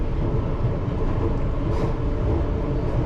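Piccadilly Line tube train on the London Underground climbing uphill toward Manor House, a steady loud rumble and roar of wheels and motors in the tunnel that holds constant throughout, with a brief hiss near the middle.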